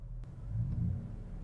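A small car engine is revved up during a diagnostic scanner check, a low steady rumble that swells slightly mid-way and settles, heard up close and alone.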